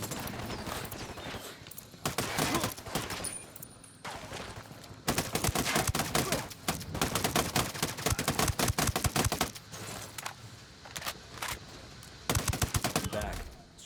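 Video game gunfire in Ghost Recon Wildlands, dense rapid bursts of automatic fire crackling almost continuously, with brief pauses and short quieter stretches between volleys.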